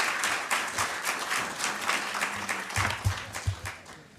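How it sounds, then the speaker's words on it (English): Sustained applause from an audience at a foreign relations council program in Iowa City, many hands clapping steadily for several seconds with uneven bursts, fairly close and full. "Can we give her another round of applause?"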